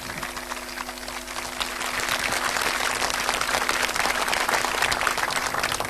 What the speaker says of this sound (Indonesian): Pak Ahok, tepuk tangan dong.